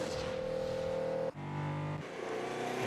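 A 1990s–2000s Subaru WRX with its EJ205 turbocharged boxer engine revs hard, a steady loud engine drone that breaks off briefly and then resumes at a lower pitch.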